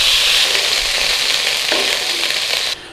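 Meat browning in a hot pan for a Lancashire hot pot, a loud, steady bright sizzle with a brief scraping stir near the middle, cutting off sharply near the end; no voices.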